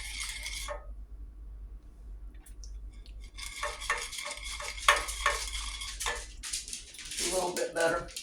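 Sugar and honey stirred in a pan by hand, a spoon scraping and clinking against the bottom in quick bursts that pause and resume, fairly quiet and close.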